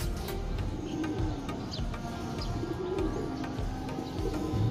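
Pigeons cooing inside a cage, with soft repeated low coos and occasional chirps running steadily throughout at close range.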